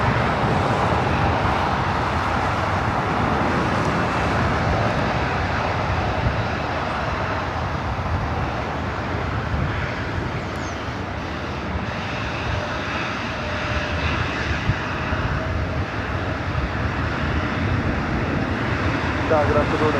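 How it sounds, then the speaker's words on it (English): An Embraer E-jet taking off at LAX, a steady broadband jet engine roar at moderate distance holding level throughout, with talk heard over it. "Got 2 E-jets up next for takeoff."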